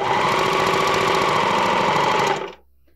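A Viking Amber Air S 400 serger stitches around a square of fabric, giving a steady, loud, fast mechanical whir with rapid regular needle beats that runs evenly, then stops abruptly near the end, leaving near silence.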